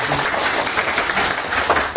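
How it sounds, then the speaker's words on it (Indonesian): A gathering of cocoa farmers and cooperative members in Cilacap bursts into brief, dense applause from many hands, loud and continuous for a couple of seconds. "Tepuk tangan untuk para petani."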